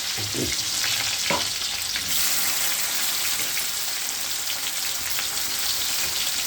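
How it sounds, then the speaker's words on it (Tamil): Oil sizzles steadily in a pan while frying for a prawn curry, a loud, dense, continuous hiss with a few brief stirring or splattering sounds near the start, heard alone. "நல்லா பொரிஞ்சிச்சு"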